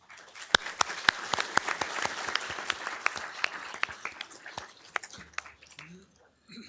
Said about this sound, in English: so if we can give him a round of applause